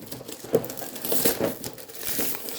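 Plastic foil wrapping on a holiday gift crinkles and crackles as it is pulled open, with a few sharper crunches standing out from a steady rustle close to the listener.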